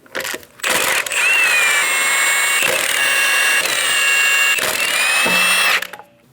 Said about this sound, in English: remove all 5 lug nuts